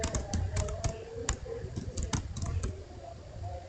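Rapid, uneven keystrokes clatter on a computer keyboard as commands are typed into a CCNA networking lab, with brief pauses between bursts and a low hum beneath.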